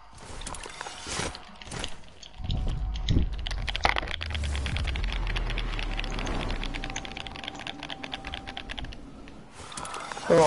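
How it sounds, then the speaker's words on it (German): Hard, rapid typing on a computer keyboard, a steady dense clatter of keystrokes close to the microphone, with a few louder thumps and low noise early on. "Hör mal auf, deine Tastatur zu vergewaltigen."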